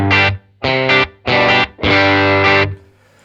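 Crunchy, overdriven electric guitar from an original Vox amp, played as four loud strummed chords with short gaps between them, the last one ringing out and fading.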